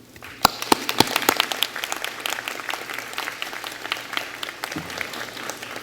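Audience applause at a graduation ceremony, with a few sharp claps up front and then a steady, moderately loud patter of clapping from many hands that keeps going throughout.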